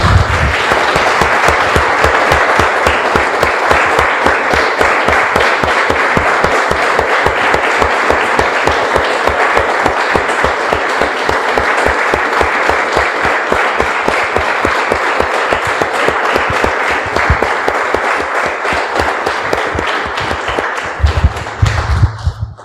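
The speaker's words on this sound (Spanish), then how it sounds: "Vamos a un aplauso, hermanos, al Señor." A church congregation claps loudly and steadily in a fast, even, almost unison rhythm. The applause holds for over twenty seconds and then breaks off near the end.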